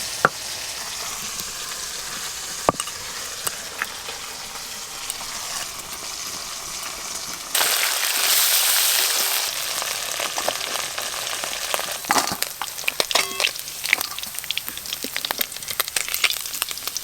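Small chengo fish fry in oil in a pan during village-style home cooking with green chilies. A steady close sizzle and spatter runs throughout, swelling into a louder, denser hiss midway as more fish go in.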